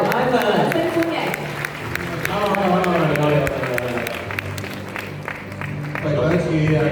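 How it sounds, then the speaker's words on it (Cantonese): An audience at a staged event applauds, dense clapping with crowd noise that runs throughout, loud and close, with voices speaking over it. "掌聲歡迎"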